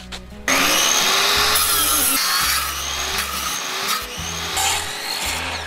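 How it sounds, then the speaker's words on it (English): A power saw rips a piece of oak into strips for a top bar beehive, making a loud, continuous whining cut with small changes in pitch. It runs nearly the whole time with no speech. "So now I have this piece of oak. I'm gonna cut it into strips to put on here."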